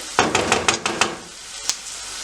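Onions sautéing in pork fat in a pan, a spoon scraping and stirring in quick clustered strokes over a soft sizzle, then a pause and one last scrape, close and fairly quiet.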